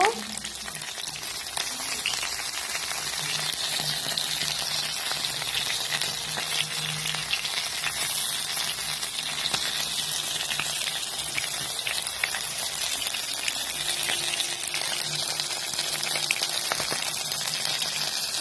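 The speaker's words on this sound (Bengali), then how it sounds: "মাছ ভাজা হয়ে গেছে, এবার তুলে নিব" Tengra fish frying in a pan of oil on a gas stove, a continuous dense sizzling hiss that holds steady and close for the whole stretch, with faint kitchen sounds beneath.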